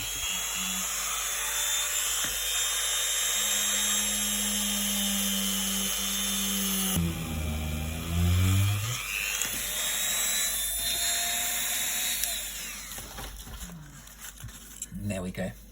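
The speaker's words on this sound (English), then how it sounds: "I'm going to do that drill once again and turn it on to a low speed" An electric drill whines steadily at low speed while joining paper craft pieces for a star, a long, even tone that then shifts pitch as the motor winds up and down, with a person talking over it.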